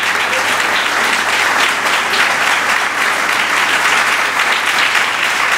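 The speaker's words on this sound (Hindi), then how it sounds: "आइए यीशु के लिए जोरदार तालियां।" Loud, dense congregation applause during a New Year church sermon in Hindi and Urdu, many hands clapping together in a continuous roar that holds steady throughout.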